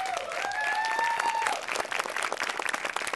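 Audience applause for two high school quiz teams at the series finale of a televised quiz competition: dense, sustained clapping from a crowd filling the whole stretch, with a faint tonal whistle over the first half.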